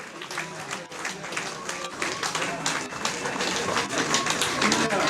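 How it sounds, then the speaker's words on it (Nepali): An audience at a Nepali Congress general convention applauds continuously, a dense, steady clatter of many hands that swells slightly toward the end, with a voice faintly underneath. "आदरणीय साथीहरूले ताली बजाइरहनु हुनेछ भन्ने अपेक्षा गर्दछौँ"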